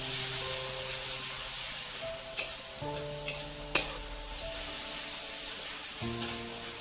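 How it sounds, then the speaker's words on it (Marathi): Green chillies roasting in ghee in a pan: a steady soft sizzle and hiss with a few sharp spoon taps against the pan, alone, with no voices. "मिरची छान भाजून घ्यायची तुपावर"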